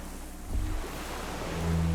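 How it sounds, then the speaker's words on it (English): Distant cargo ships and water in the Disco Elysium game: a low, rumbling waterside ambience with soft surf-like wash, and a faint, deep signal-horn tone swelling in near the end. "Distant sound of cargo ships. Signal horns echo on the water."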